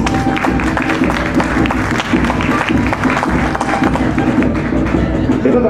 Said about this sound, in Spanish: Nuestras palmas para Rocío Velázquez.